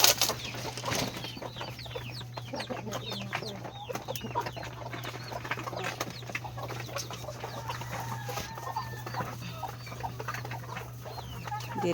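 A flock of chickens and hens clucks and squawks busily at feeding time, a dense overlapping chorus of close and farther calls over a steady low hum.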